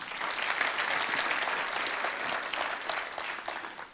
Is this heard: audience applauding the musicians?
yes